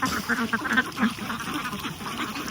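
Ducks on a Bangladeshi duck farm quack in a dense, overlapping flock, a steady moderate chorus of nasal calls near a pond.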